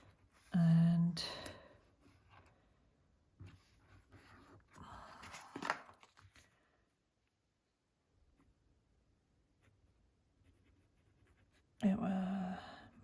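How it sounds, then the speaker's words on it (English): A pen scratches across the pages of a creative journal in short, soft bursts of close, quiet writing strokes, separated by pauses and faint rustles. "maybe I just speed up this part where I'm writing"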